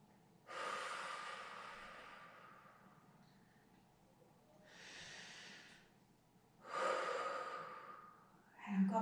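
Deep, slow breaths during a gentle Pilates exercise, three long airy inhales and exhales at close range, with short quiet pauses between them and no talking.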